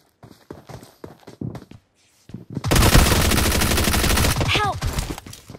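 Sustained automatic gunfire in the mobile battle royale game BGMI, a dense loud burst lasting several seconds after sparse scattered shots and footsteps, with someone talking briefly beforehand.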